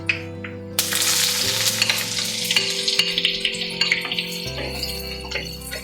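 Chopped shallots sizzling in a hot pan for a Tamil country chicken gravy, a sudden loud hiss as they hit the oil, then steady frying with repeated scraping stirs and clinks of the spoon against the pan.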